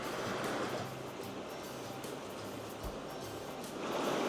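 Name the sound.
river flowing by a natural swimming hole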